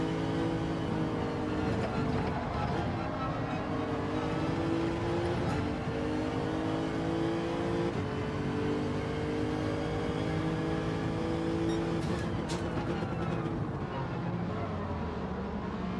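Race car engines roar continuously in Gran Turismo 7 played in VR, with sustained high revving tones that rise and shift as cars jostle close by, a dense, loud engine bed with no clear talk.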